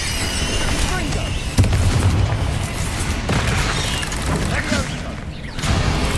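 Confringo explosive spell blasts in the Hogwarts Legacy video game, heavy booming bursts over a dense roar of combat effects, with a spoken voice mixed over the action.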